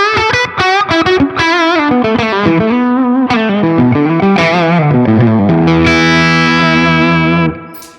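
Electric guitar lead tone played through a Laney Lionheart Loudpedal at low-to-mid gain with boosted mids and treble: a loud, continuous run of sustained, bending melodic notes ending on a long held chord, with no talking.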